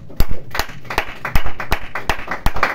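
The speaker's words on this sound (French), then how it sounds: "Est-ce qu'on peut acclamer la parole du Seigneur?" A church congregation claps in praise, a loose rhythmic series of hand claps, close and fairly loud, with no talking over it.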